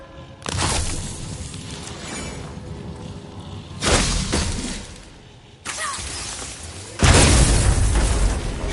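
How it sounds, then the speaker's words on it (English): Objects shatter in God of War on PS5 in loud, crashing bursts of breaking debris, four heavy impacts spread over several seconds with rumbling decay between them and no talking. "I will never get tired of shattering things with this."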